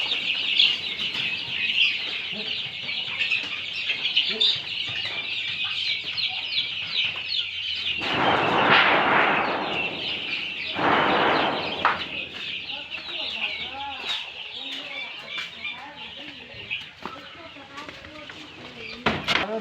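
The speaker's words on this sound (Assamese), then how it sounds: "ইফালে লোকেল মুৰ্গী সোমাই গৈছে এটা" A local chicken clucks among 20–25-day-old quail chicks at a quail farm, under a constant high chorus of chick chirping, with people talking nearby.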